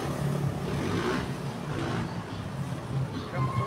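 A borrowed motorcycle rolls along with a steady engine drone blended with wind rush, heard up close from the rider's position with no clear break in the noise.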